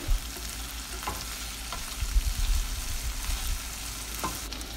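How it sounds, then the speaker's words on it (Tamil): Tomatoes and onions sauté in a pan for a guava leaf chutney, giving a continuous close sizzle with a few soft stirring scrapes and no voices. "தக்காளியும் வெங்காயமும் நல்லா பச்சை வாசனை போகிற அளவுக்கு வதக்கிடலாம்"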